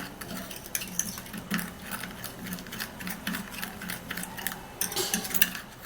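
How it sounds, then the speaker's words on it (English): A spoon stirs a milk mixture for a homemade skin mask in a bowl, making quiet, quick clinks and scrapes in a steady run, close but faint, with no voices. "now we're going to stir and mix this together"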